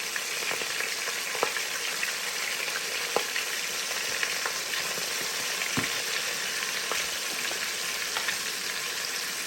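Meat searing in an Instant Pot on sauté, a steady close sizzle and crackle with scattered sharp pops, continuing evenly with no voices.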